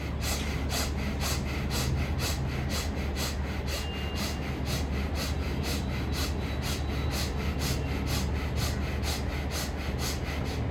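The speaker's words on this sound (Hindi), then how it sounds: "हम अपने नाक से सांस लेंगे। थोड़ी हम इनहेल करेंगे, एक्सहेल नहीं करेंगे" Steady, loud nasal breathing in a breathing exercise, with rapid rhythmic sniffing pulses through the nose repeating evenly and closely throughout, with no pause.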